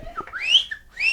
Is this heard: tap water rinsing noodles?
no